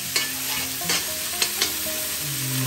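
Fried rice being stir-fried in a pan, a continuous sizzle broken by a few sharp scrapes and knocks of a utensil against the pan.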